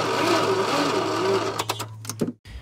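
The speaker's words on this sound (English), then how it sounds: "With all this cranking and not starting, I think the plugs are kind of fouled out." A 1980 Dodge engine with fouled plugs cranks without starting, its starter giving a loud, steady whirring drone up close for about two seconds, then breaking into a few uneven clanks before cutting out.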